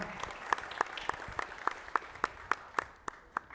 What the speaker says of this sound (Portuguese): salve de palmas para ela